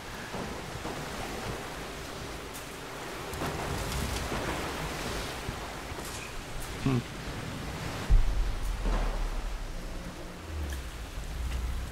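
A waterfall in Tomb Raider (2013) roars as a steady broadband wash of rushing water, loud and continuous, swelling slightly partway through.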